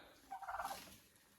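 A turkey gobbles once inside a winter chicken coop, a quick warbling burst lasting about half a second, faint and fairly distant against quiet room noise.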